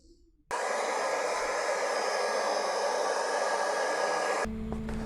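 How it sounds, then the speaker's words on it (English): A hair dryer switches on to heat and shape EVA foam, blowing with a loud, steady whoosh of air, close by, then changes pitch abruptly near the end. "So I was in fact able to shape this with the hairdryer."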